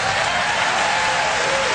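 Audience applause, a steady, dense burst of many hands clapping at even loudness throughout, with no voices standing out.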